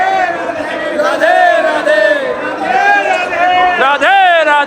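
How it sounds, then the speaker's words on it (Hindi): A dense temple crowd chanting Radhe Radhe, many voices rising and falling together in loud, close, repeated calls with sharper shouts near the end. "राधा नाम को ऐसे जयघोष करो, मंदिर पूरा गूंज उठो राधा नाम से"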